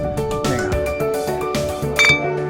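Glasses clinking together in a toast at a meal in Sant Pere de Calanda, several bright ringing chinks in quick succession amid a hubbub of table sounds.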